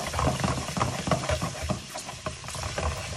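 Anchovies melting in oil with crushed capers and finely chopped olives in a pan for spaghettoni, giving a steady close sizzle and frying crackle with scattered pops and stirring scrapes, no talk.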